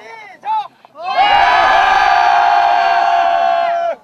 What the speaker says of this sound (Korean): 황 신부와 아이들은 하루를 마감하는 힘찬 함성으로 감자밭에서의 둘째 날을 마무리했다